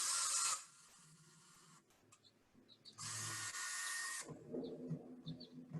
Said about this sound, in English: let me finish drilling it all the way through